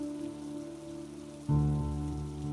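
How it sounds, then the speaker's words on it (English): Steady rain patters on a surface with a constant hiss, joined halfway through by a low sustained musical tone. "It's raining."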